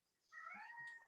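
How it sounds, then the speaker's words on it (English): A house cat gives a single faint meow about a second long, rising then trailing off, alone in a quiet room. "cat is meowing."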